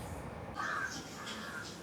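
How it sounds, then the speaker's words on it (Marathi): Several crows caw on a sunny morning. A few harsh calls come at moderate distance over a low outdoor background. "किती कावळे ओरडत आहेत"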